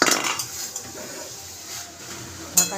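A pot lid comes off a pot of papaya curry cooked with green chilli, chickpeas, cumin, bay leaf, turmeric and ginger paste. There is a sharp metallic clatter at the start, quiet simmer noise, then another brief clink near the end.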